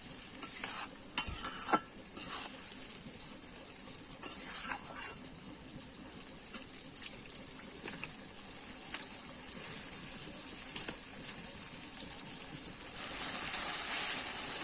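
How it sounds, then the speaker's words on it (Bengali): Tomatoes being stirred in an oily pan for a Bengali pomfret curry, with a steady soft sizzle and occasional spoon scrapes and knocks against the pan throughout. "দেখো আমি এরমভাবে দুই তিনবার কিন্তু নাড়িয়ে নিয়েছি"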